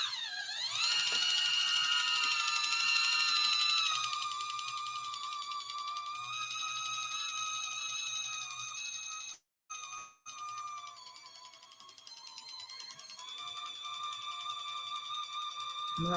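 An electric can opener for arthritic hands cuts around a tomato sauce can, a faint steady mechanical whine and ratcheting grind that pauses briefly partway through before carrying on.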